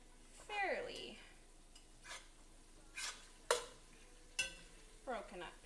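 Ground meat for chili is stirred and broken up in a pot, with scattered spoon scrapes and knocks over a soft sizzle and a couple of brief voiced sounds.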